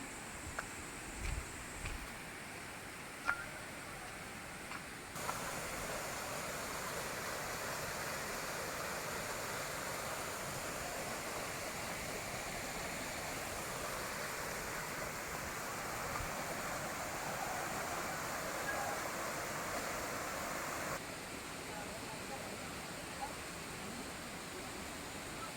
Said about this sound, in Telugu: ఈ పక్కన చిన్న వాటర్ ఫాల్ లాగా ఉంది